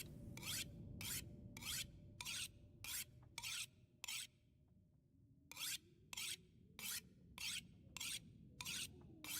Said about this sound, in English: let's continue sharpening our knife